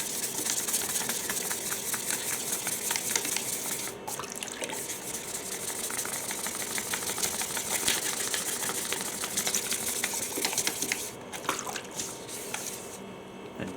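Steady wet rubbing with 800 grit sandpaper and a bucket of water on motorcycle paintwork, a continuous swishing, scratchy wash with rhythmic strokes, close and fairly even in level throughout.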